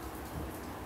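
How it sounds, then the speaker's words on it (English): Steady summer rain falls in a continuous, even hiss over a wet surface, filling the short stretch without pauses, with no voices present. "today it's wet and raining"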